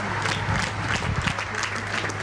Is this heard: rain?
no